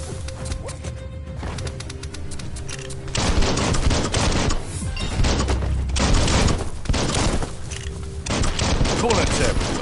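Gunfire in the game Biomutant on PS5: loud, dense bursts of rapid shots and crashing impacts come in waves, with a voice talking over parts of the fight.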